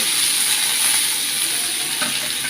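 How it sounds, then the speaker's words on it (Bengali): Chopped onion sizzles loudly in a frying pan with a dense, continuous hiss, a brief stir scraping through it, for a fried tomato bhorta. "পেঁয়াজ কুচি, এবং একটু নেড়ে নিতে হবে।"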